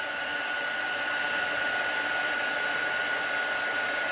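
A steady blowing hiss of a heat tool held over a stamped card to melt embossing powder, continuous and close with no pauses.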